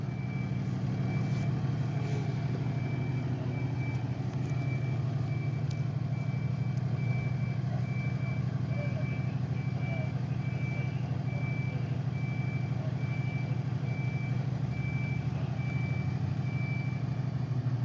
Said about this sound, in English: So he's gonna back the ladder truck up so that car can kind of back up and leave